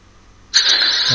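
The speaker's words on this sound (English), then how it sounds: "so you'll get the startup sound in one of the engines" Engine startup sound from a small speaker in a Hachette Lancaster Dambusters bomber model, silence, then an abrupt loud onset of a bright, buzzy piston-engine crank and roar that holds steady, with a low rumble joining at the end.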